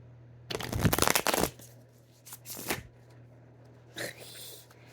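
Tarot reading cards being shuffled by hand at close range, a dense riffling burst followed by a shorter second shuffle and a brief final flick, over a steady low hum.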